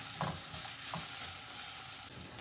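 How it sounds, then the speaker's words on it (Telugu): Onions for a mushroom sandwich fry in a pan, giving a soft, continuous sizzle with occasional stirring scrapes, fairly quiet and with no talking. "ఆనియన్స్ బాగా ఫ్రై అవ్వాలి రెడ్గా."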